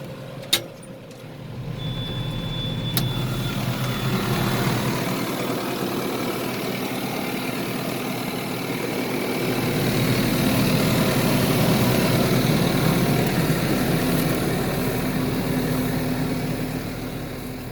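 A tractor engine idles at low throttle with the PTO disengaged and out of gear. It gives a steady, continuous low rumble close by that swells slightly partway through. There is no talk.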